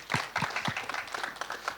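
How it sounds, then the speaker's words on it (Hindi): At a film trailer launch event, an audience gives a short burst of scattered, fairly faint clapping with individual claps audible. "तो इनके लिए बहुत बहुत तालियां हो जाए एक बार।"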